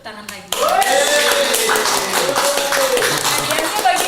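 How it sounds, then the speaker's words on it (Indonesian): Applause for the winners of a music talent class event, a dense burst of clapping that starts abruptly and continues steadily, with a voice and music-like tones running over it. "So kasih tepuk tangan lagi."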